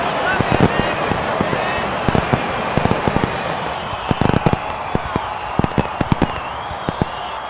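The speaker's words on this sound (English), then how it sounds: "Fireworks in Palatine." Fireworks crackle and pop in a rapid, irregular series of sharp bursts over steady crowd noise and a talking voice, celebrating a bases-clearing triple at a Little League baseball game in Palatine.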